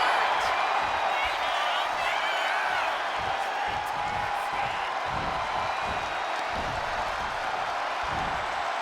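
A video game arena crowd in WWE 2K25 cheers steadily through a wrestling match, a dense continuous roar with occasional whoops and thuds underneath.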